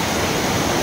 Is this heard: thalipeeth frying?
no